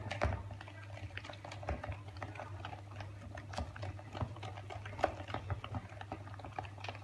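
A whisk stirs donut batter in a bowl, giving a quiet run of rapid, irregular clicking taps over a low steady hum.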